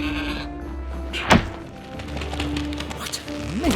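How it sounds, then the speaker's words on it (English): A goat in Trine 4 bleats briefly amid game ambience, with a sharp thunk partway through and tonal background music or hum continuing underneath. "What an amazing goat!"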